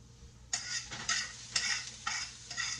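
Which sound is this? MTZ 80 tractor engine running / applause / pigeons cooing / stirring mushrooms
stirring mushrooms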